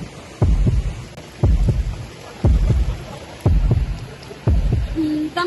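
Fast heartbeat sound effect in a school stage play, five loud, close double thumps in a steady rhythm over a faint background hum.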